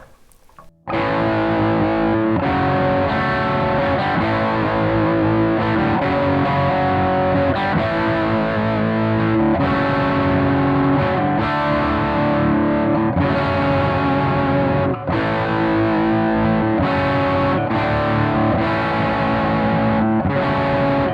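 Distorted electric guitar playing the verse of a song, steady sustained chords and ringing melody lines, loud and up front without any talking.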